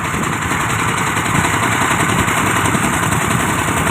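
A backhoe excavator from an army engineer battalion, an 80- or 95-size machine working at a fishing pond, runs its engine in a loud, constant roar that continues steadily throughout without talk.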